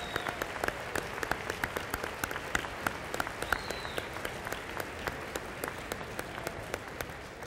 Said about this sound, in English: Can I ask all of our sponsors to stand and let us applaud you tonight?